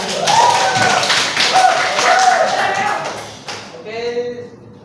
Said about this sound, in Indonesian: Mari kita tepuk tangan untuk semuanya.